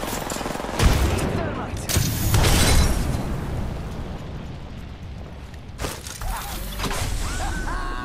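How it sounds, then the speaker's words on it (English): A grenade blows up in the Apex Legends battle royale game, with heavy booming bursts around the first and third seconds, then softer rumbling, clatter and a late crack, with people speaking. "Grenade out!"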